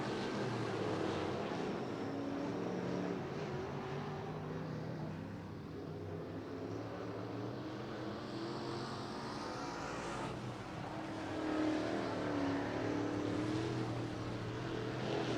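IMCA Modified race cars run a heat on a dirt track, four cars on course, their engines a continuous loud roar that swells as they pass and fades slightly between laps.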